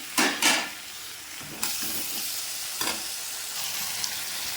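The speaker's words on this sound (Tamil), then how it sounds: "இப்போ வந்து நீங்கள் தக்காளியை அரைச்சும் போட்டுக்கலாம். நான் வந்து அப்படியே போட்டு வதக்குறேன்." Tomatoes and onions sautéing in a pan for an egg curry, with a steady close sizzle and a few louder stirring scrapes; no talk.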